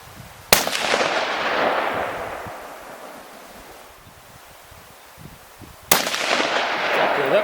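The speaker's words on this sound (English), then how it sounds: "This is my dad shooting the 7mm. It's gonna be loud." Two loud Savage 7mm Magnum rifle shots fired outdoors, each a sharp crack followed by a long rolling echo that fades, roughly five seconds apart, with wind noise between.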